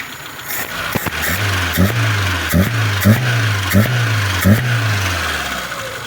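A Tavria 1.1 engine with a freshly repaired Solex carburetor runs close by at a steady, slightly lumpy idle, and a faint rhythmic ticking repeats every half second over the low hum, with no talking.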